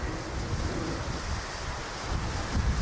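Wind blows steadily across an outdoor cycling track, a soft, continuous rushing that buffets the microphone and swells slightly toward the end, with no voices.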